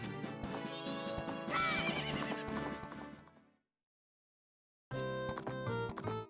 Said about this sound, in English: Is that pathetic thing your horse?